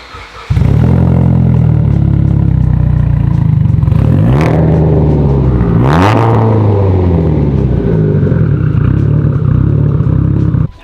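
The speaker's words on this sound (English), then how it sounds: "I'm warming all these cars up before Bobby goes and rips them." Several sports cars, including a Toyota Supra and a Mitsubishi Evo 10, idle loudly and close by while warming up, with a deep steady rumble and two sharp revs that rise and fall.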